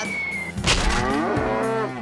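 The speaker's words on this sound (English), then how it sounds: "we're gonna have 40 cows." A cartoon herd of forty cows moos together in one loud, close chorus of overlapping lowing that swells and holds for about two seconds, with no talk over it.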